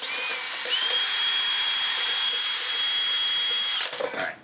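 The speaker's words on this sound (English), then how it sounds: "Put the drill on slow," A power drill fitted with a paint-shaking attachment runs on slow speed, a steady close whine that rises in pitch after a brief start and holds for about three seconds before stopping.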